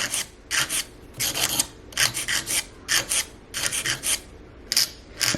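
A nail file shaping fingernails into a tapered square, giving quick, close, raspy strokes in short rhythmic clusters with brief pauses between them.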